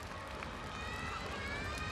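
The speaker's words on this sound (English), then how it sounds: "as you can hear from the reaction in the audience" Audience at a rhythmic gymnastics World Challenge Cup final in Beijing reacts as a steady, loud crowd murmur and roar that fills the whole moment, with no clear breaks.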